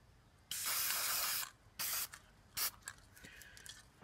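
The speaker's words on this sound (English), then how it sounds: "I'm just going to spray paint the whole piece black." Spray paint can hissing as a pendant is coated black, three separate bursts: one long steady spray, then two shorter ones, close and alone with faint handling noises after.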